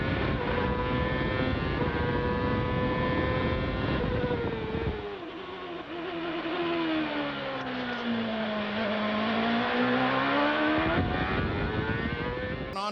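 A 2001 CART race car's engine screams at high revs from onboard, its pitch dipping and climbing as it lifts and reaccelerates, loud and continuous throughout.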